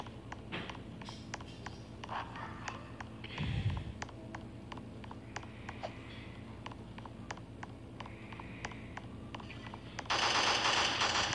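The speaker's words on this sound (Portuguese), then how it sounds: "Tiro é tiro. Tiroteio." Rapid bursts of gunfire crackle through the scene, sharp repeated shots scattered across the clip, with a louder noisy rush near the end.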